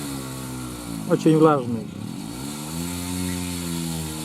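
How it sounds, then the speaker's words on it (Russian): An old motor drags a plough through very wet soil on a northern village plot. Its steady mid-pitched drone runs throughout, with a short burst of nearby speech over it. "Старенький мотор не очень-то и тянет."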